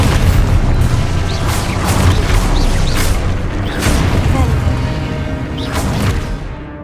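A fire spell in the video game Hogwarts Legacy detonates with loud booming bursts, rumbling blasts and crackling debris that repeat over several seconds at close range.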